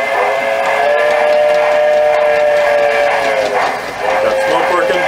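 A model saddle tank steam locomotive's analog sound unit sounding its whistle: a loud, sustained multi-tone steam-whistle chord holding steady for several seconds with a slight dip near the end, close up.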